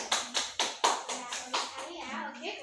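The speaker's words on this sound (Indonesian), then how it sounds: "Beri tepuk tangan dulu dong untuk teman-teman." Students in a classroom clap for their classmates in a few loose, rhythmic bursts that soon blur into scattered claps, with children's voices mixed in.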